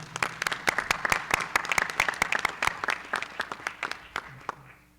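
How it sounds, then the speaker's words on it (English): An audience at an education event applauds to welcome a moderator, a steady patter of many hands clapping in a mid-sized room that thins out toward the end; moderately loud, no talking over it. "Let's welcome him with a big round of applause and a big thanks to Dr. Brian Graham."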